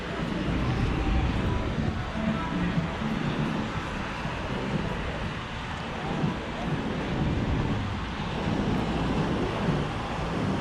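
Ocean surf at a beach in Tamarindo, Costa Rica, a steady broad roar of breaking waves mixed with wind buffeting the microphone, continuous and fairly loud with no distinct single crashes.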